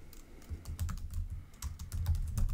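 Keys clack on a computer keyboard as PHP code is typed, a quick irregular run of close, soft taps with short pauses, alone and fairly quiet.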